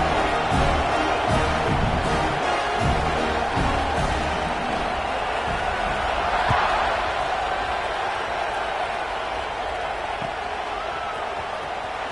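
A stadium crowd at a college football kickoff between MSU and UCLA holds a steady, loud, distant roar that swells slightly midway and fades a little toward the end.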